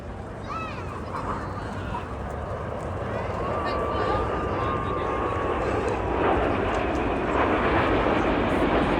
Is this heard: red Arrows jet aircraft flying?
yes